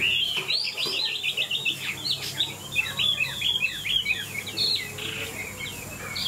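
A Chinese hwamei songbird sings a lively, continuous run of bright whistled phrases and warbles, close and clear over faint background hum.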